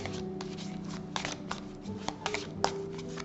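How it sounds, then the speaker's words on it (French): Tarot cards being shuffled by hand, a run of soft papery riffles and slaps with a few sharper snaps near the end, close and fairly quiet, with no talking. "Je vais bien les mélanger comme ça."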